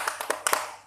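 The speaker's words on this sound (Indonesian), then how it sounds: "Tepuk semangat." A small group does a patterned spirit clap in a training session, several sharp, close hand claps in a quick uneven rhythm, with no talking.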